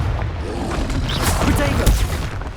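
The Confringo fire spell from the Hogwarts Legacy video game bursts in crackling, booming blasts amid loud, dense battle noise, with a voice shouting during the fight.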